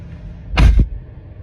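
A car door opens with a single close, solid latch clunk followed by a short thump, set against quiet cabin background.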